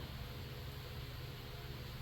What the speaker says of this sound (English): I apologize for the fan noise